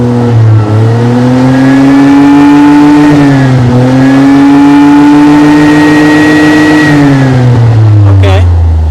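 A John Deere Gator engine revving in neutral toward 6,000 RPM, a loud close whine that climbs in pitch, dips briefly, climbs again and holds high before dropping off near the end.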